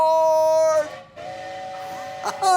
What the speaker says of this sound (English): all aboard the Christmas story train